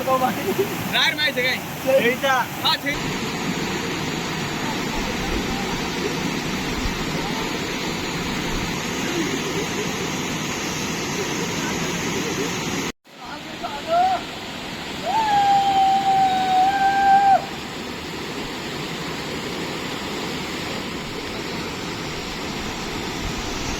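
Small mini waterfall pouring steadily, a broad continuous rushing wash heard close, with a voice speaking over it, a sharp break midway and a brief whistle-like tone later.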